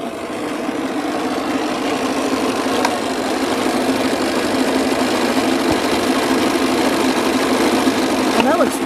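An embroidery machine stitching a design with Floriani thread gives off a steady, close mechanical hum and rapid needle chatter that runs without a break. A voice murmurs faintly in the background.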